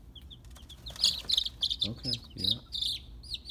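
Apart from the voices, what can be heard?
baby chicks peeping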